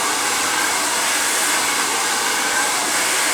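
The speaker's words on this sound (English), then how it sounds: "Dry the hair most of the way until it's just slightly damp" Hair dryer blowing on hair during a blow-dry, a loud, steady, close whooshing roar that holds constant throughout with no talking.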